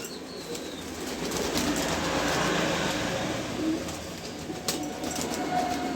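A pair of Afsan grizzle pigeons coo softly amid a busy, rustling background, with a few faint flutters and no clear speech over the steady murmur.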